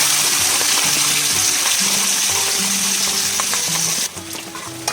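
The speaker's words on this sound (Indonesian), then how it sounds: "Kemudian aku akan melanjutkan menumis bumbu yang sudah aku ulek tadi." A pounded spice paste sizzles and fries in a pan at a riverside bamboo camp shelter, a steady, close hiss that drops quieter near the end as stirring clinks through.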